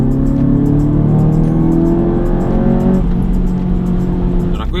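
A modified Audi TT mk3 (8S) four-cylinder, Stage 2 tuned to 300 hp, with a VR600 intake and remapped engine, revs loud and close, its pitch climbing and holding in sweeping rises before dropping back near the end, with brief talking.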